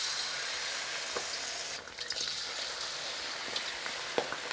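Thai fried chicken frying in hot oil, a steady close crackling sizzle with scattered sharper pops, continuous and fairly quiet with no voices.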